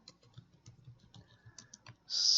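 Typing on a computer keyboard, a quick irregular run of light clicking keystrokes heard up close, ending in a brief louder burst of sound.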